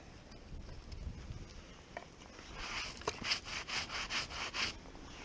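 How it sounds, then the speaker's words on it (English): Knife shaving wood into a pile of curls for a one-strike fire, with soft rough scraping strokes, then a quicker run of six or seven rhythmic rasping pulls near the end, close and fairly quiet outdoors. "I'm making a big old pile of shavings."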